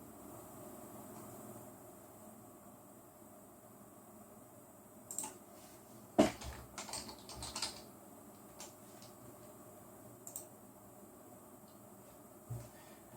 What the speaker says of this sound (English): Just using a Logitech wireless mouse and keyboard at the moment.